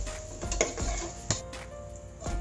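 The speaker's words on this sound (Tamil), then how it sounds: "வெங்காயம் வதங்கிறதுக்காக கொஞ்சம் நாம் உப்பையும் அதில் சேர்த்துட்டு நல்லா வதக்கிட்டே வருவோம்" Onions sauté with salt in a pan for egg biryani, giving a soft, steady sizzle. A spoon stirs and scrapes against the pan a few times.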